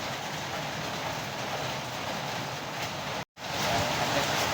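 Steady, unbroken rain hisses and drums close by, with a brief cutout before the downpour resumes at the same level.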